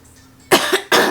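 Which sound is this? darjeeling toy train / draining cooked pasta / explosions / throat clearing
throat clearing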